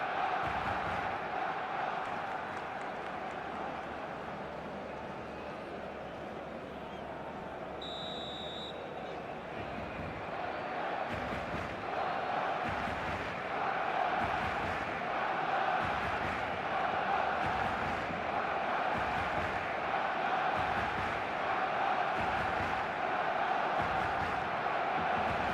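Dense football stadium crowd roaring and cheering throughout at a Real Madrid vs Liverpool Champions League match, a loud, sustained wash of massed voices that swells toward the end, with a brief tone near the start.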